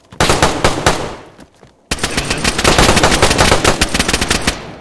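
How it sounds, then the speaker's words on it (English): Barrett .50 cal rifle fire in the video game DayZ: a loud burst of rapid, sharp gunshots, a brief pause, then a long sustained string of reports, heard alone without talk. "That's me shooting from a distance."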